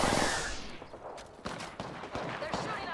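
Video game gunfire rattles in quick bursts after a big opening blast, close and loud, with a voice speaking among the shots.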